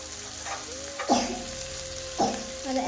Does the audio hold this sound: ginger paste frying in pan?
yes